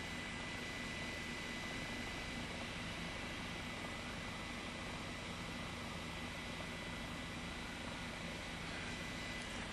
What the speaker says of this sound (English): it's an amazing sight to see the first touchdown of this composite, experimental, highly technical fly-by-wire type airplane